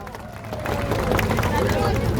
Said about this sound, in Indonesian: Tepuk tangan yang setuju.